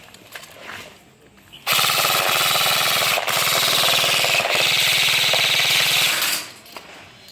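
Airsoft M249 light machine gun fires one sustained loud, rapid full-auto burst of about five seconds, close by, with quieter talk and handling before and after.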